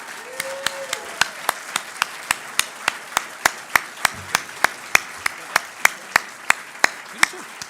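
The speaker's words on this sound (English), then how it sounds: "A rousing round of applause for both of these guys." A candidate forum crowd claps for two candidates, regular sharp claps sounding steadily over a low room murmur, moderately loud and close throughout.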